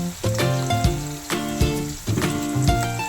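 Loud sizzling of onions frying with turmeric in a pan, with a few stirring scrapes breaking the steady crackle.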